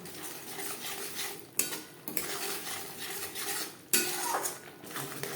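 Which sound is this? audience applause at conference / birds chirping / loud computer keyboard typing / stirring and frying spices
stirring and frying spices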